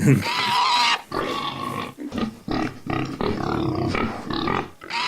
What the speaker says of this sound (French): Ça, c'est un porc heureux.